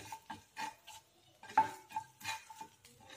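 A spoon stirs mashed potato mixed with red chilli powder and salt for vada pav, giving a series of soft, close scraping and squelching strokes in a quiet kitchen.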